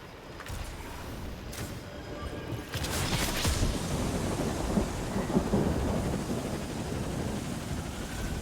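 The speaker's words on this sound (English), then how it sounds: "That's some loud ass thunder." Loud thunder rolls and rumbles continuously over steady rain, deep and sustained, growing heavier partway through.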